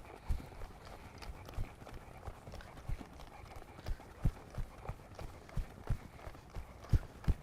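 Horse trotting under saddle during a training warm-up, hooves giving a steady, rhythmic clip-clop at close range, with a faint voice in the background.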